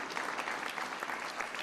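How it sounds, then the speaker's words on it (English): An audience applauds a bill signing at a governor's news conference, a steady, dense wash of clapping that fills the whole stretch at even loudness. "You ought to clap your hands for the signing of this bill."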